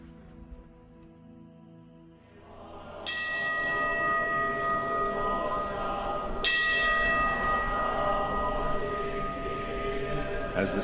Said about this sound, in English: the neighborhoods resound to the chanting of sutras and the ringing of temple bells